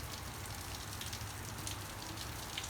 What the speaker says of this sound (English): The rain is really coming down very good here.